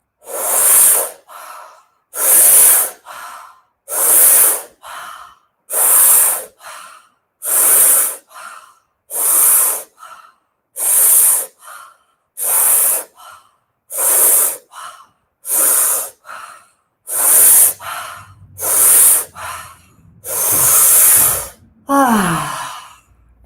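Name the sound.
deep breathing exercise, inhaling fully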